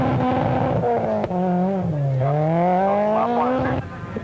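A Shell Helix Toyota Corolla rally car racing in Class N2 at the 2004 Toyota Dealer Rally, its engine droning loud and steady, the pitch sagging and then climbing again as it accelerates.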